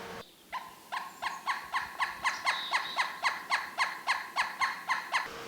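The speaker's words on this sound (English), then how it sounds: "our pileated woodpeckers will show up. They're very large birds. They look like this in Eden and have this sound." A pileated woodpecker gives a loud, ringing call of about fifteen evenly spaced, rapid notes that rise and hold steady for five seconds, sounding close and clear with no other sounds.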